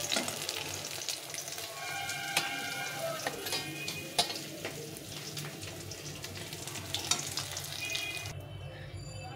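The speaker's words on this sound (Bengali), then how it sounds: "এই 6 পিস মাছই ভালো করে ভেজে নিয়েছি।" Six pieces of fish frying in hot oil make a busy, crackling sizzle, with scattered sharp pops and spatters over about nine seconds before the sound cuts off abruptly; nobody speaks.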